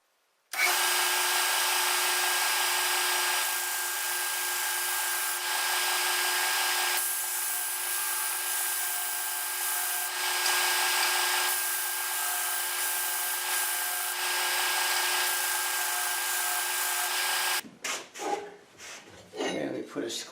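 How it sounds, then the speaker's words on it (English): Belt sander fitted with a new, coarser belt grinding down wood pieces, a steady loud whine with a droning tone running for about seventeen seconds, then stopping, followed by brief handling noise. "I put a new belt on here, which is a little coarser wheel, to grind these down"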